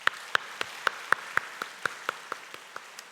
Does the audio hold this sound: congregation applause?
yes